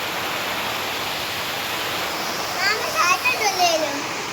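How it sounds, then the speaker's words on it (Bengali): Rain falls around 1:30 at night as a steady broadband hiss, joined in the latter half by brief voices and childlike chirps. "বৃষ্টি হচ্ছে।"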